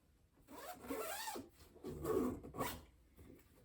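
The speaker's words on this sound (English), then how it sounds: "They all have a zipper on them, and you can take them off" A sofa cushion cover's zipper is pulled in two short rasping strokes at close range, with a faint rustle of fabric and no talking.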